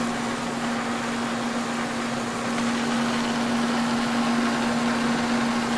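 A K&T 6 inch universal lathe running steadily in a workshop, a constant mechanical hum with a clear sustained whine, loud and unchanging from start to finish.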